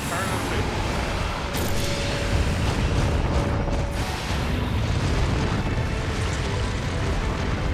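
Repeated bomb blasts in Elden Ring Nightreign, heard as a continuous dense roar of booming explosions and rumbling that runs at a steady loud level throughout.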